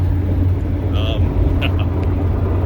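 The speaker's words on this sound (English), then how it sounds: "Just cruising down the highway, recording on the Warrior." Yamaha Warrior 350 quad cruising down a highway, a steady close engine drone and road rumble with wind roar throughout, no pauses.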